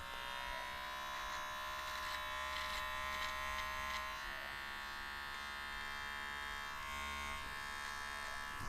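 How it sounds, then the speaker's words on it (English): Electric shaver buzzing steadily and continuously while shaving a head, a close, even hum with slight shifts in pitch as it moves, no talking over it. "Try shaving under disco ball conditions."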